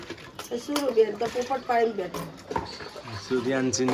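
Dishes, pots and metal utensils clink and clatter while being washed by hand at home, with sharp knocks scattered under near-continuous conversation.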